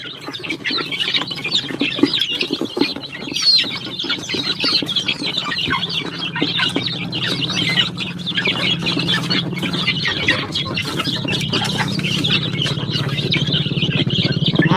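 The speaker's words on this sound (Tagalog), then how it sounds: "Meron tayong 8 pabo dyan na sisiyo." Dense, continuous high-pitched peeping from a crowd of chicks and eight young turkey poults, close and busy, with scattered scratchy movement underneath and no talking.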